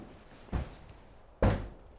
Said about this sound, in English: I heard the front door